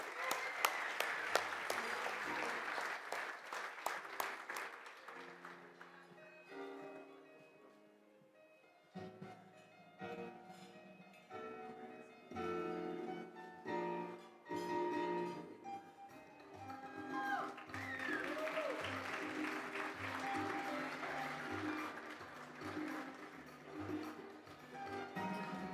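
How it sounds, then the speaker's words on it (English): Audience applause for an award recipient at a Latino economic growth breakfast plenary, loud in the opening seconds alongside music, then giving way to a longer stretch of music. "Let's give him a round of applause."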